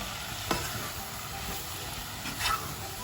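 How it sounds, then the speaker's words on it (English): Chopped apples and sugar cook in a hot pan with a continuous soft sizzle and hiss, while two brief spoon knocks stand out as they are mixed. "I'm also going to add the sugar now, guys. Give it a good mix."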